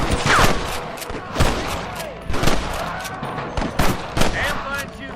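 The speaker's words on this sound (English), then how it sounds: "Damn fine shooting, boys." Rapid volleys of cowboy gunfire from Red Dead Redemption, sharp repeated shots crackling close and loud in irregular bursts, with no one speaking over them.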